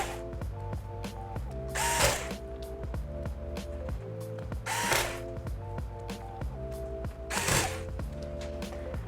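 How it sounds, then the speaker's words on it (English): Small power driver running in repeated short bursts as screws are driven back in to secure the battery bracket inside an HP Chromebook 14 G6 laptop, a close steady whir with brief scraping peaks at regular intervals. "then you can put the screws back in to hold the battery down"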